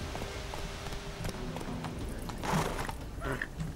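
Horse hooves clip-clopping in The Witcher 3: Wild Hunt, a steady trotting rhythm with a louder burst near the end, set among game ambience.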